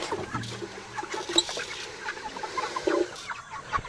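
Chickens cluck and make short fowl calls on a homestead, scattered near and farther clucks with brief louder squawks over quiet background noise.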